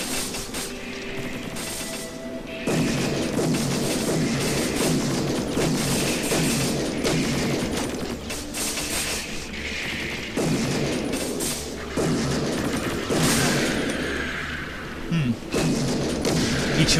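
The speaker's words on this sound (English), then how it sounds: "at least we're putting the shotgun to good use." Repeated bursts of shotgun fire and impacts boom in the video game Shadowgrounds, coming in clustered volleys over a steady rumbling background.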